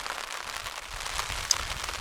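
Heavy rain hammering down on a tent during an August camp, a steady dense patter with a few sharper drops, fairly close and continuous, with no voices.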